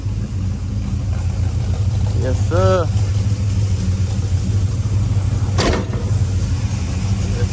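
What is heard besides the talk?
restored 1970 Monte Carlo new engine running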